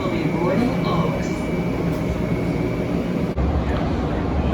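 Interior ride on a Sacramento RT light rail train: a steady, loud rumble of wheels and motors with a faint tonal whine, continuing throughout, briefly dipping once.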